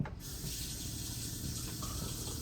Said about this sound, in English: I'm going to step over to the kitchen sink real quick. I'm going to go ahead and turn it on.